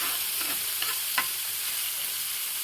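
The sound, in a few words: chicken pieces frying and being stirred in a pan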